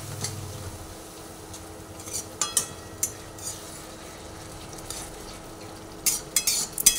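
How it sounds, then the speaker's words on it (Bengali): Sesame okra masala with a little added water being stirred in a pan, soft bubbling under scattered scrapes and taps of a spoon, quiet and close with no talking. "জল দিয়ে ভালোভাবে মিশিয়ে নিচ্ছি।"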